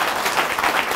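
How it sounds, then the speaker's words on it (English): A church congregation claps and applauds together in a dense, steady burst of hand claps, loud and continuous throughout, with no voices over it. "Give her a hand clap."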